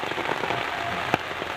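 Heavy rain pours steadily onto surfaces at a rural field in West Sumatra, making a dense, loud, even hiss with one sharp knock near the end.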